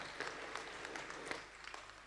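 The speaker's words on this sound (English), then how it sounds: "Another big round of applause, ladies and gentlemen," Faint, sparse clapping from an audience at the IDECS 2020 closing ceremony at Borneo Convention Centre in Kuching, with scattered hand claps over a low background hum.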